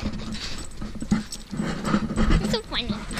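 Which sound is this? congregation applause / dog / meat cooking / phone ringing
dog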